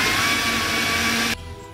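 A kitchen blender whirs loudly and steadily, blending a homemade whisky cream liqueur with vanilla, then cuts off abruptly near the end, leaving a faint low hum.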